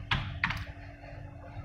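Typing on a computer keyboard: two quick clusters of key clicks, close and fairly quiet, then faint low room hum; no talk.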